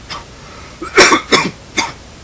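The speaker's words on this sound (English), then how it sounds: "yes, I'm still coughing" Several loud, harsh coughs close to the microphone, three or four bursts in quick succession with short pauses between them.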